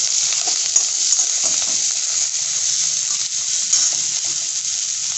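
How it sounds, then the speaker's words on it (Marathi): Onions with a pinch of salt sauté in a pan for besan pitla, a loud, dense, even hiss of frying that runs without pause, with faint stirring scrapes and no talking. "हे बघा, कांदा आता व्यवस्थित छान परतलेला आहे।"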